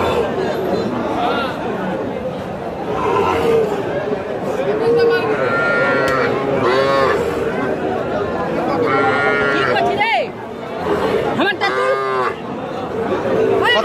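Cattle mooing at a cow and calf market in Bangladesh, several drawn-out lowing calls from nearby animals over a constant murmur of crowd chatter and people talking.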